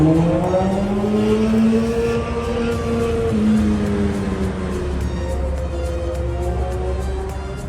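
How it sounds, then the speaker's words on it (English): Tuned motorbikes and cars revving and driving past on a street below an apartment in Colombia, a loud continuous engine drone with rising and falling pitch sweeps. "It's a little noisy here because there's so many tuned bikes and cars."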